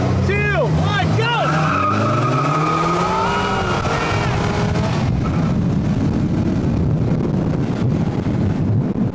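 A Vanderhall Venice and a Slingshot launch in a race: engines rev hard in rising, shifting pitch sweeps, then give way to a heavy, constant rush of wind noise.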